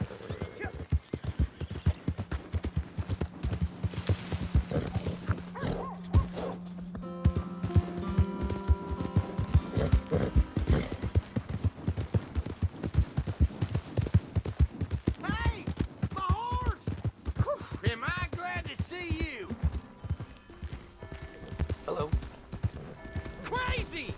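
Horse hooves clip-clopping at a steady trot in the Red Dead Redemption 2 video game, a close rhythmic beat that continues throughout under characters talking, with a brief whinny and scattered ambient game sounds.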